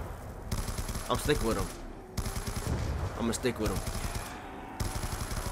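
Rapid automatic gunfire from upgraded duo weapons in Call of Duty Black Ops 2 Zombies, in loud sustained bursts broken by short pauses, while a player talks over the shooting.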